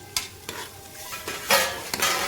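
Tomatoes sizzle in a hot pan as the base of a vegetable gravy, with a spoon scraping and stirring in several quick strokes over the steady frying hiss.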